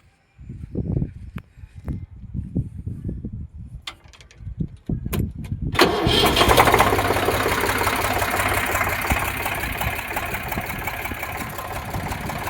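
An Eicher 368 tractor engine turns over with a few rough cranking bursts, then catches and settles into a loud, steady diesel rumble close by.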